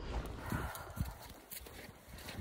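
Horse hooves clip-clop on a spring ride outdoors, a few uneven, fairly close footfalls over a soft background with no talking.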